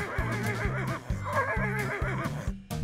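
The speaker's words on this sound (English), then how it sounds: "A horse." A cartoon horse in a children's farm-animal game gives a loud, wavering whinny lasting a couple of seconds, riding over a steady, upbeat music track.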